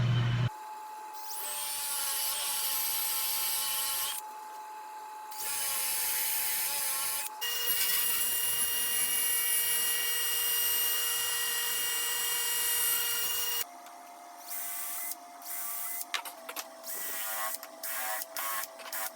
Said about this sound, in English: So I'm going to be able to use a Forstner bit